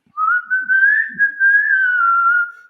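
A single person whistles one long, sustained melodic line, clear and close, with no talking, the kind of casual whistling heard from a passerby or a builder in the alleys of Rome's Trastevere.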